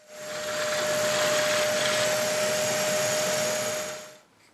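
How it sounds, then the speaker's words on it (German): A power drill bores holes for threaded insert sleeves, giving a steady, loud whirring whine that runs for about four seconds before cutting off, with no talking. "hier bohren wir jetzt für die Rampermuffe die Löcher hier rein."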